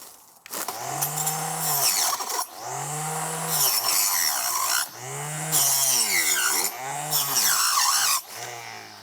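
A cheap Amazon power cutter saws through tree branches in four loud, close bursts. Each one whines up, strains and sags under load, with brief pauses between cuts.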